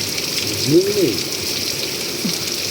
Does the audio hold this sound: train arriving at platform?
no